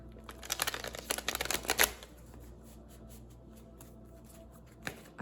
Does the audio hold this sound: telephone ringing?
no